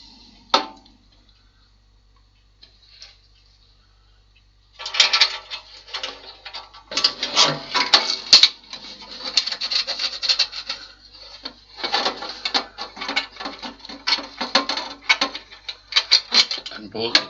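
Metal bracket being bolted onto the superstructure of a model tug boat build fitted with rivnuts, heard as close, repeated raspy ratcheting and scraping bursts in uneven runs after a few seconds of near silence.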